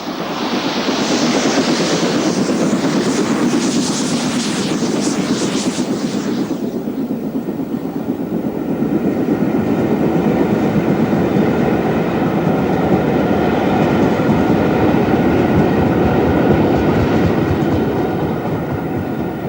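An LMS Princess steam locomotive hauls a train along a British main line, a steady loud rumble with rapid rhythmic clatter of wheels and carriages, a bright hissing wash in the first several seconds, passing close by.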